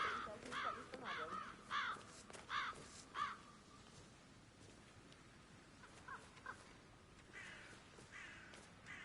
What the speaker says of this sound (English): It's birds. They're making a racket.